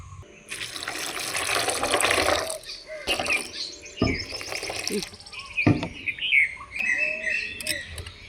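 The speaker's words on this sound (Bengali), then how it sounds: "এই দেখো সয়াবিনগুলো আমি একবার ধুয়ে নিচ্ছি।" Soybean chunks rinsed in a bowl of water in a home kitchen, with splashing and swishing sounds, some running tap water, and light clinks, while birds chirp faintly outside.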